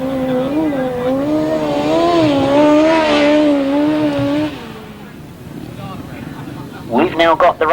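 Grasstrack racing motorcycles at an international bonfire burnup meeting rev as they head onto the circuit, their engines rising and falling in pitch, then a brief burst of revving near the end. An announcer talks over them.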